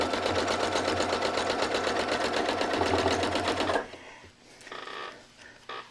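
Sewing machine stitching quilting lines on a sampler quilt block, a fast steady close-up hum of needle strokes for nearly four seconds, then stopping with faint handling noises afterward.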